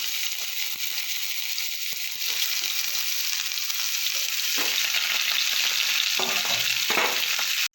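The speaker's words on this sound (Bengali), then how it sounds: "এবার আমি কপিগুলো ভেজে নেব, লাল করে একটু ভেজে নেব।" Cauliflower pieces fry in hot mustard oil in a pan, giving a loud, continuous bright sizzle, with a few clinks and stirring scrapes near the end before it cuts off abruptly.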